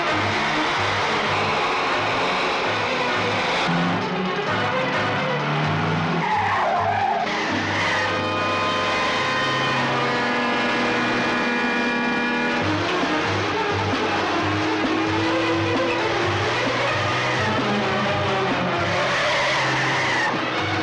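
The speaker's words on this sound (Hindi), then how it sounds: "ड्राइवर, गाड़ी स्पीड से चलाओ।" During a car chase in a 1982 Hindi comedy-thriller film, a speeding car's tires squeal and skid loudly and almost without a break. A droning engine runs beneath the squeals.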